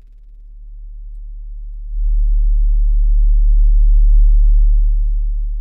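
A Karanyi Audio synth patch with a morphing digit option plays a deep, pure low tone that swells and brightens slightly partway through, then holds steady and fades a little at the end.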